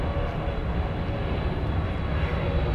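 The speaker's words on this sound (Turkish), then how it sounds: "Uçak geçsin şimdi." A fixed-wing airplane passes overhead outdoors, its steady loud engine roar filling the whole stretch without a break.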